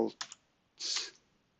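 A few quick clicks of computer keyboard keys, with a short pause before a last, longer keystroke, while a part is named in CAD software.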